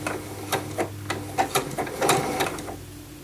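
A Janome sewing machine fitted with a blind hem foot runs a blind hem stitch through fabric, giving a close, steady rhythm of sharp mechanical clicks and needle thumps with no voices.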